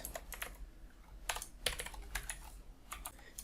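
Typing on a computer keyboard while coding an Express.js tutorial: quick irregular clusters of light clicky keystrokes, close to the microphone, with brief pauses between bursts and no talking.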